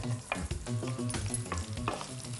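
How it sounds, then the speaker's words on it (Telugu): Onion pieces frying in hot oil after tempering spices: a steady close sizzle with light stirring scrapes throughout, with no talking. "ఆయిల్ వేడైపోయింది. సో పోపు దినుసులు వేసుకున్నాక ఓకే, నెక్స్ట్ ఆనియన్స్ వేసుకోవాలి."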